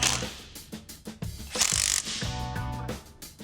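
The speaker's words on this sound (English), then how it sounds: "I'll put on a new gasket and seal everything up with the rear cover." A hand ratchet clicks in quick bursts while bolts are driven to fasten a new gasket and rear differential cover on a Chevy Tahoe axle, close and crisp with short pauses between strokes.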